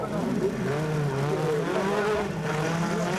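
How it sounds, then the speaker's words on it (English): Rally car engine of a Peugeot 205 or Lancia Delta at the 1988 Race of Champions final, with a turbo barking as it accelerates after a jump. The engine howls loud and close with wavering pitch, and a commentator's voice runs over it. "Bark from a turbo"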